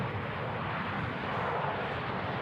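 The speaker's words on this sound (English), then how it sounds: "This Ryanair flight 6956 coming in from Milan." A Ryanair passenger jet arriving at Manchester Airport on a flight from Milan gives a steady, loud broadband engine roar that fills the clip without a break, with no speech over it.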